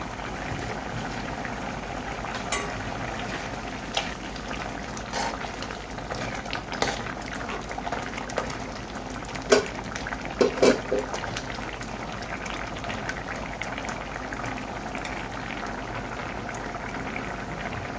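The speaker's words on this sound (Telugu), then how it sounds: "ఇవన్నీ కూడా ఉడకాలి ఒక ఐదు నిమిషాలు" A pot of egg and urad dal vadiyalu masala curry simmers with a steady low bubbling over a constant hum. A few soft clinks and knocks stand out midway.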